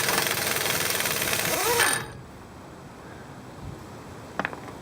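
An impact wrench removes a car axle nut during a wheel bearing change, giving a loud, close, continuous rattling whir for about two seconds before it stops, followed by quiet shop ambience and a faint clink.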